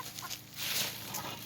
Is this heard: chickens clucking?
yes